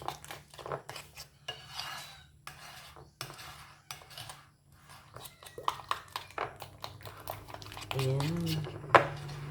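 Bitter gourd omelette batter with flour is mixed in a bowl, and a utensil clinks and scrapes against the bowl in quick repeated strokes, with a steady low hum underneath. A voice speaks briefly.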